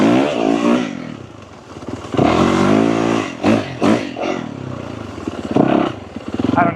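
A Yamaha YZ450FX dirt bike engine drones and revs loudly and continuously while riding through deep sand, with surges in throttle and some clatter and scraping mixed in.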